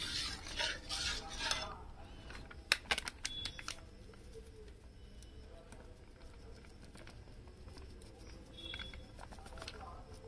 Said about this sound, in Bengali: অল্প অল্প করে ঢেলে দেবো আর নাড়বো।